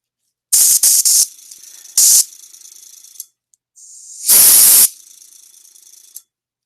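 An airbrush spraying paint onto resin Relic Knights miniatures after its nozzle is loosened: several short, loud hissing bursts, then a longer steady spray, with quieter airflow hiss between them.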